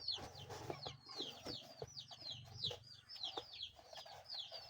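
Two chickens packed in a cardboard box cluck and chirp repeatedly, faint and muffled, with high peeping calls recurring over a low background murmur.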